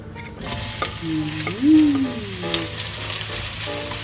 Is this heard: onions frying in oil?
yes